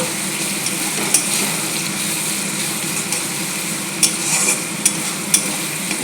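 Bay leaves dropped into masala frying in oil for mutton curry, a steady close sizzle with a few light knocks of a spoon against the pot.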